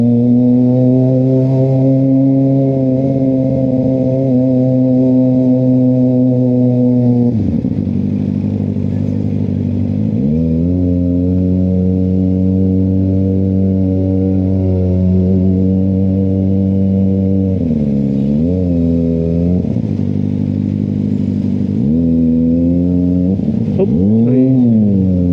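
A motorcycle accelerating on a road near Palembang, its engine loud and close throughout, with several rev rises and gear-change dips around the middle and end.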